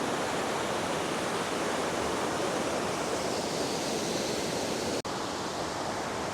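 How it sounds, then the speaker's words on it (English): High water rushes steadily through a swollen stream near a spillway, a dense, loud, continuous roar with no pauses, nearby and unbroken except for one brief dropout. "There's quite a bit of water rolling right through here."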